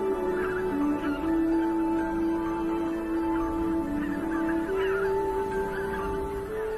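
Wild geese, including bean, white-fronted, greylag and Canada geese, call from a large resting flock in Poland, a continuous overlapping chorus of honks and cackles at moderate distance over a steady background hum.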